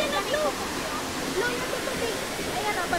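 Tenogtog Falls roars as a steady broadband rush of falling water, constant and fairly loud, with people talking over it.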